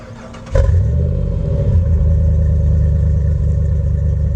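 A Jeep JK with an SRT8 Hemi engine swap and a mild cam cranks and fires, then settles into a loud, steady, rumbling idle close by, with no talking.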